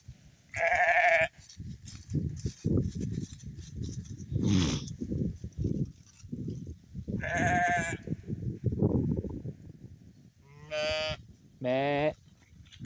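Several goats bleat loudly and repeatedly at close range on a farm, their calls scattered over a background of shuffling and low murmurs.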